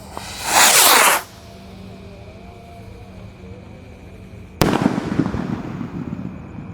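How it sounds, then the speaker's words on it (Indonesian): A Mars Roman candle firework fires at night, opening with a loud hissing whoosh lasting about a second, then after a quiet pause a sharp bang followed by a crackling, sputtering burst that trails on. "Di sini ada Roket Mars Roman candle, guys."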